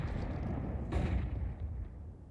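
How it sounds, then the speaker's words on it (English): Two grenades explode at mid in a Counter-Strike match on the Vertigo map, a low rumbling blast with a sharper boom about a second in, heard over constant game noise. "Nice little double nade mid, though."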